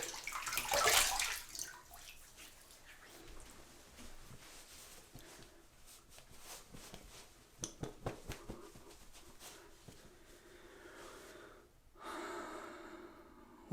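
Splashing water as a man rinses his face after a wet shave with a Merkur Progress razor and Gillette blade, with snorting breaths and gasps, a burst of splashing at the start, scattered drips and a second splash near the end.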